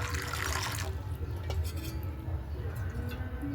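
Water is poured over shelled peas to wash them in a village Bengal kitchen, a steady close rush of running liquid with faint clinks of dishes, loudest at the start and continuing throughout.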